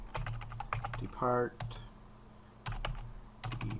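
Keys clatter on a computer keyboard in short uneven bursts of close, light clicks, with pauses between runs and a person speaking briefly over them.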